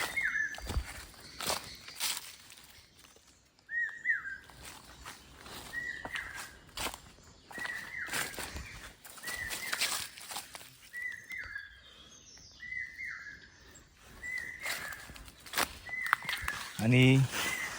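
Birds call in a forest in the Konkan countryside, repeated short chirps recurring every second or two at moderate distance, with footsteps and rustling nearby and a brief voice at the end.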